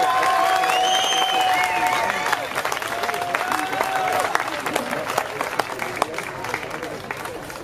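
An audience applauds at an amateur boxing bout: steady, moderately loud clapping from a crowd throughout, with some whistles and cheering on top that gradually thins a little toward the end.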